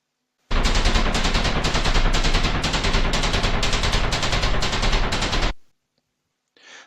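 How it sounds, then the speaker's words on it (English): Impact noise on a bare concrete floor as heard from the apartment below in a residential building: a loud, rapid, even train of hammering knocks lasts about five seconds, then stops abruptly. "let me play the bare concrete floor as if you're in the apartment below"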